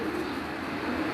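A pigeon brought from Piplan coos softly on a rooftop loft. Its low, muffled calls sit under a steady wash of outdoor background noise.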